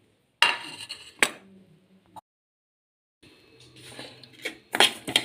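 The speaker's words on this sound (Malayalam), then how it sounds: "ഞാൻ കുറച്ച് തേങ്ങ എടുത്തിട്ടുണ്ട്. ഇത് നമുക്കൊന്ന് വറുത്തെടുക്കണം." Grated coconut is dry-roasted in a pan, with a spatula giving short bursts of scraping, clinking and tapping against the metal, separated by quiet gaps and with no talking.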